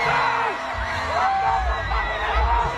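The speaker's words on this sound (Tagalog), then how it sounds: "people went to Aurora Fest shouting cheater, booing, and raising the middle finger" Large festival crowd at Aurora Fest booing and shouting at a singer, a dense continuous roar of many voices with rising yells and whoops, loud and sustained throughout.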